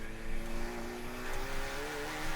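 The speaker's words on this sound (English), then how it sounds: "here comes alongside him a Porsche 996 Cup car down in braking for turn 1" A Porsche 996 Cup race car at Summit Point, braking hard into turn 1, loud and close with a dense, steady engine roar. Its pitch shifts as it slows, and other race engines run alongside.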